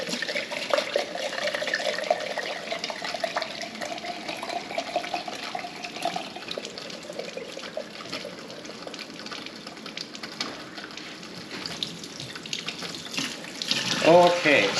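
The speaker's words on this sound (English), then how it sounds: "now that we've rinsed them thoroughly" Tap water runs steadily while alfalfa and broccoli sprouts are rinsed in a jar, a continuous close splashing flow with brief louder gushes near the end.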